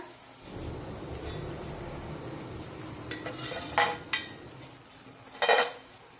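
Golden fried chana dal dumplings are lifted out of hot oil in a pan, a steady sizzle broken by a few sharp metallic clinks of the utensil against the pan.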